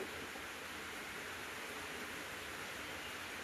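Torrential rain pouring down outside a house, a constant broad wash of hissing noise at an even, moderate level with no other sounds standing out.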